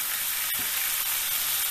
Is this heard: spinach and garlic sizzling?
yes